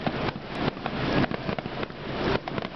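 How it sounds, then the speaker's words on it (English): Fireworks bursting over Spring Lake, Michigan on a summer night, a dense run of booms and crackles that rolls on without a break, loud and close, with no talk over it. "Check out these fireworks"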